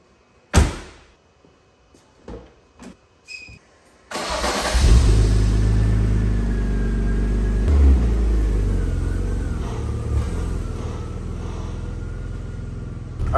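A classic BMW 318 in the early morning: a door thuds shut and a few light clicks follow, then the engine cranks and catches and settles into a loud, steady rumbling idle close by.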